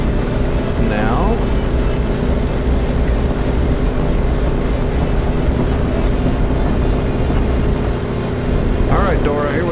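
Light aircraft engine held at a steady 2,500 RPM on the takeoff run before a channel crossing, a loud continuous drone with broadband roar filling the whole clip, occasional faint voice-like tones in the background.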